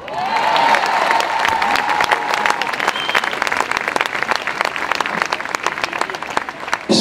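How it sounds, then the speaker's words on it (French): A large audience at a Paris commemoration event applauds loudly for a performer, a dense sustained burst of clapping that stays strong and then thins slightly toward the end. "je compte sur vous pour applaudir très fort Amir."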